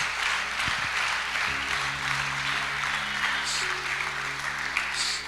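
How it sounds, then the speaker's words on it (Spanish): A church congregation applauds steadily, the clapping dense and sustained throughout, with a few voices faintly mixed in. "Un aplauso al Señor."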